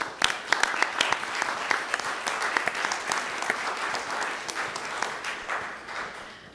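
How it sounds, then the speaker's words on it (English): A large crowd of students applauds at an economics championship, steady and sustained clapping that fills the room with a few sharper individual claps standing out. "I think you should all give yourselves a great round of applause."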